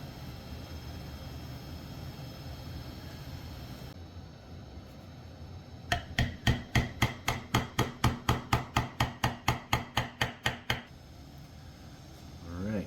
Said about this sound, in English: I'm going to put the little rivets around above the handle now